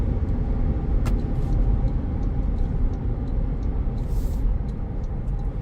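A 2026 Toyota Land Cruiser on Nitto tires pulling away under light throttle, a steady loud engine and road rumble heard from inside the cabin, with no talking.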